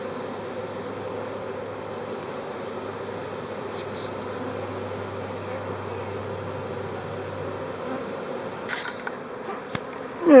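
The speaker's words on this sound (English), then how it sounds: "the bees continue to move down into the hive" A honeybee swarm moving down into a hive gives a steady, dense buzzing that hums on without a break, with a few faint knocks and rustles near the end.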